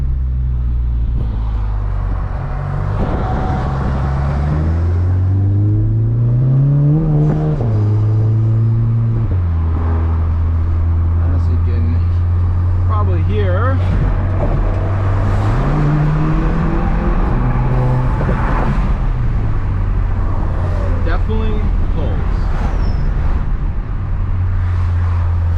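A tuned MK7 VW Jetta GLI 35th Anniversary in sport mode with traction control off accelerates hard through repeated gear climbs, its engine note rising and dropping in loud waves, close and alone with no talking.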